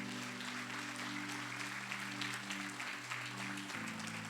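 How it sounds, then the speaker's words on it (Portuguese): Congregation in a church giving a round of applause during a sermon, a dense, sustained wash of clapping with steady sustained tones from a keyboard or organ underneath. "Você pode dar uma salva de palmas para o Senhor?"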